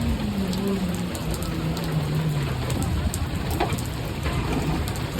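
Steady rain falls around a roadside shop near a ferry ghat in a Bengali village, a dense, even hiss of drops with faint pattering on surfaces and no voices.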